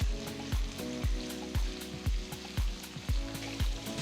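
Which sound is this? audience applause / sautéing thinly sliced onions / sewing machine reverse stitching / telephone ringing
sautéing thinly sliced onions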